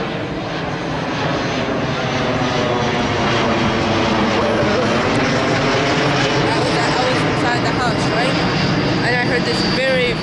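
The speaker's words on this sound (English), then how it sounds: "This very, very, very, very, very loud roar. And I looked outside. You won't believe what I saw. It was an airplane. I saw a jet, a blue jet." Passing jet airplane gives a loud, sustained roar that fills the whole stretch, steady and close overhead, with people talking underneath.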